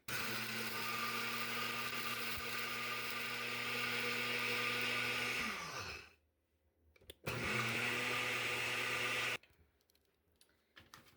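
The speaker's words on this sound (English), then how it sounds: "I'm going to take this over here and put it into the blender." A blender grinding dry eggshells at high speed with a steady whirring grind, stopping, briefly restarting for a couple of seconds, then cutting off again.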